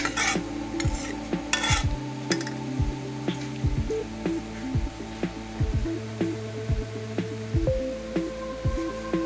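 Onions cooking down in a pot for a chana dal and chicken dish, stirred with repeated scraping strokes of a spoon against the metal over a low sizzle, close and fairly loud, with a hum underneath and no talking.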